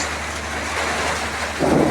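Steady rain in Dhaka hisses continuously, growing louder and heavier in a gust toward the end.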